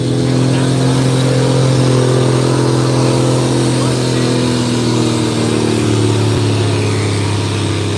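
A farm stock antique tractor's engine runs loud and steady during a township tractor pull, a sustained droning roar with held harmonic tones close to the microphone, while people talk underneath.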